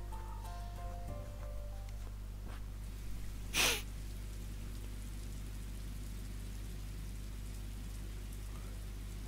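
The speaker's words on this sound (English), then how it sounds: "Look at the rain." Steady rain falls in the Scarlet Nexus video game, a soft continuous hiss under a constant low hum, broken by one brief louder burst midway.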